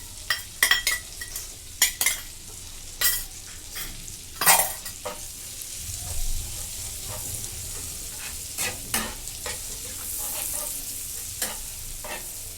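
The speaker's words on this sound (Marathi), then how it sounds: "त्याला एक मिनटं परतून घेते लसूण मी चांगला लालसर होईपर्यंत परतून घेतलाय" Minced garlic sizzles softly in melted butter in a pan for garlic butter chicken, broken by sharp scrapes and clinks of a spoon stirring against the metal, close and fairly quiet, with no voices.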